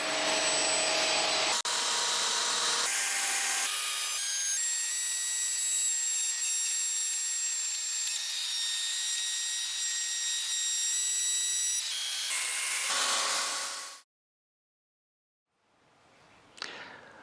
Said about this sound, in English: I'm going to be running that one through with this router bit